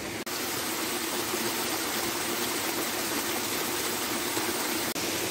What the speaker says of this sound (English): That sound might be the waterfall, or it could just be even heavier rain.